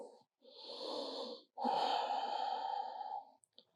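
Slow, deliberate breaths during yoga practice, heard close and fairly soft: a long airy inhale followed by a longer exhale, with brief silence between them.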